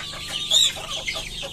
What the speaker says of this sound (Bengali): এই যে মোরগগুলো দেখতে পাচ্ছেন